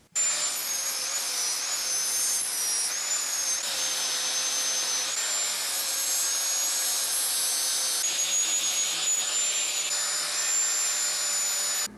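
A power tool grinds flashing off a freshly cast aluminum Bronze Age-style sword, a loud, steady high-pitched whine that holds nearly unbroken and shifts slightly in pitch as it bites into the metal.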